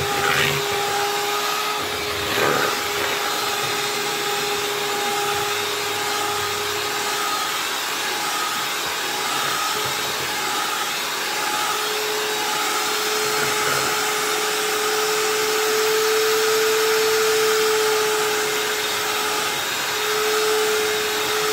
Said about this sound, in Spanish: Vamos a empezar primero por batir los huevos